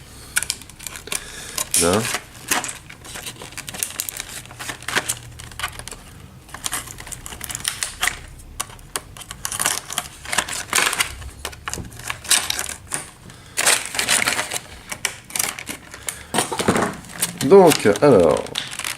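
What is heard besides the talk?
removing tape while unboxing a board game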